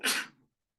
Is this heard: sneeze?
yes